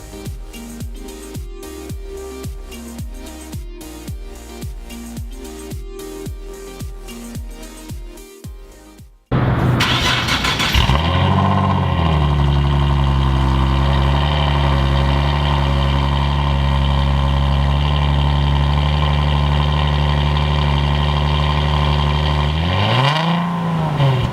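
A Nissan 370Z's starter cranks in a rapid rhythmic chug for several seconds before the engine catches with a burst, settles into a loud steady idle, then gives a brief rev near the end.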